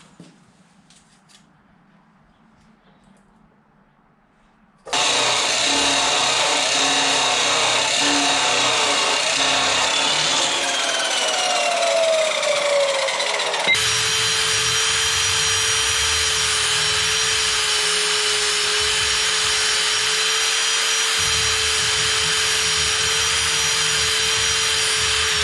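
A power saw cuts 1.5-inch, 1/4-inch wall and 1.25-inch DOM steel tubing for 4-link bars on a 1948 Ford, a loud sustained grinding roar after a quiet start, shifting to a steadier high-pitched whine partway through.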